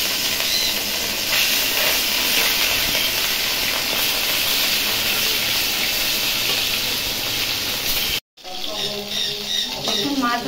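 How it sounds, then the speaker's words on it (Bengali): Rohu fish fries in hot oil with a loud, steady sizzle and hiss, broken by a brief cut before the sputtering picks up again. No one speaks. "তেল গরম হয়ে গেছে, মাছ দিয়ে দেবো।"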